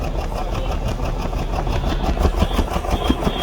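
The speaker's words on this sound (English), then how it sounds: "You can hear that this engine runs clean." A car engine with a blinking check engine light idles close by, running smoothly with a steady, even rumble and no voices.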